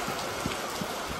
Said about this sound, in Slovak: Proste úplne z ničoho krásny deň všetko a zrazu bam, prší iba, prší.